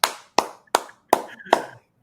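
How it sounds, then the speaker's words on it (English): Five distinct hand claps come at a slow, even pace, each sharp and close with a short echo, while a faint voice murmurs in the background. "Let's hear some claps."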